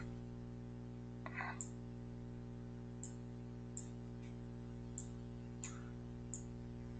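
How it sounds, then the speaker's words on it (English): A computer mouse is right-clicked several times in mapping software. The clicks are faint and spaced apart over a steady low electrical hum. "We can add by right-clicking."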